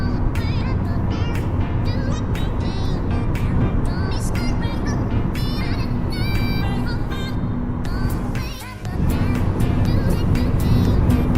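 A car drives fast on a German Autobahn, with a loud, steady engine and road roar from inside the cabin, tyre and wind noise rising throughout and a brief dip near the end.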